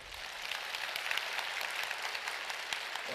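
Church revival congregation applauding together, a dense, steady wash of clapping that holds at an even level from start to finish with no voices standing out.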